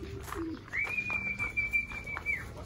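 A racing pigeon arrives at a landing board and gives a short low coo, then a sustained whistling tone carries over faint background noise.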